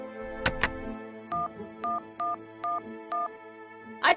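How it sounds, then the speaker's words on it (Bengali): Five evenly spaced touch-tone beeps from a telephone being dialed, each short and steady, following two sharp clicks like a handset being picked up, with a brief rustle at the end. "দাঁড়ান, আমি করালি বাবুকে ফোন করছি"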